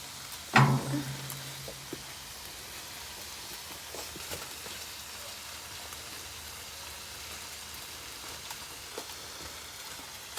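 Breakfast burrito fillings and tortillas sizzle on a 28-inch Blackstone griddle, a steady soft crackling hiss with a brief louder clatter near the start, no talking.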